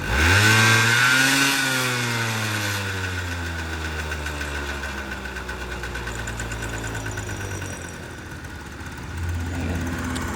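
A Honda Dio AF-34 scooter engine revs up then settles into a steady idle, its pitch falling and wavering before a slight rise near the end.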